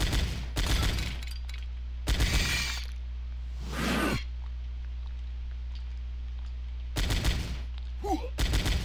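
Pistol shots in the first-person shooter Powerslave fire in short, loud bursts of rapid reports separated by pauses, with a whooshing effect and a low electronic hum droning underneath.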